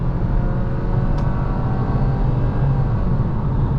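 A 2025 Nissan Kicks SR with AWD accelerating onto a highway, a steady engine drone and road rumble heard from inside the cabin, constant and fairly loud throughout the short run.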